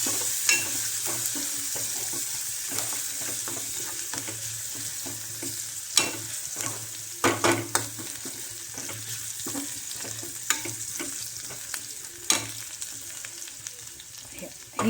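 Crushed garlic fries in hot oil for a Maharashtrian brinjal rassa curry, a steady close sizzle with scattered sharp pops and crackles and occasional spoon stirring throughout.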